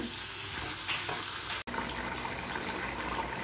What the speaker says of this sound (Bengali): এবার আমি এর মধ্যে জল ঢেলে দেবো